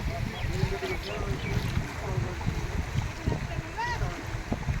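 Floodwater from the swollen Padma river rushes past in a steady, splashing churn that holds at close range throughout, with someone speaking over it.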